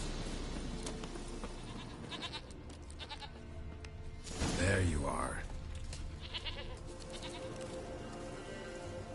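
Goat bleating in the Witcher 3 video game, a short burst around the middle over steady game ambience, with a person talking over it.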